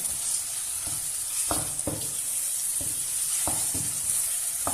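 Beef sizzles in a pan for Kannur-style beef varattiyath while a spoon stirs it, the steady frying hiss broken by several sharp scraping knocks at uneven intervals.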